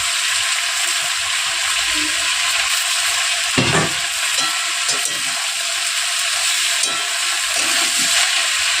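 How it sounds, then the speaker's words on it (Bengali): Chopped onion frying in a little oil for an onion-greens curry, a steady broadband sizzle throughout with a few brief clinks and stirring knocks around the middle. "অল্প একটু তেল দিয়ে দেবো এবার দিয়ে দেবো পেঁয়াজ কাট দিয়ে"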